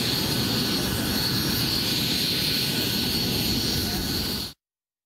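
A helicopter carrying costumed New Year characters arrives at a Christmas celebration in Minsk, its loud rotor and engine roar steady and close before cutting off abruptly near the end.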